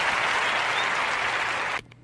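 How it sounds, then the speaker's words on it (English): A round of applause, dense steady clapping from a crowd that holds evenly and then cuts off abruptly near the end, with no voices over it. "I would like to give Amazon a round of applause."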